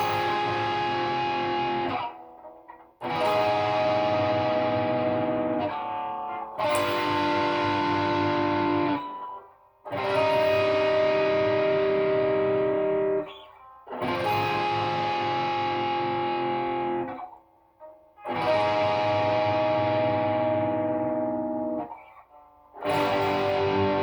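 Electric guitar plays sustained jazz chords from the bridge of a song, with distortion and effects. Held, strummed chords ring out in repeated phrases separated by short gaps, with no talking.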